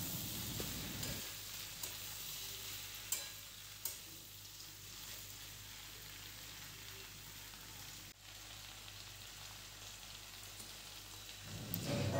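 Prawns and bheri frying together in a pan, a steady soft sizzle with occasional stirring scrapes, fairly quiet and continuous throughout with no talking.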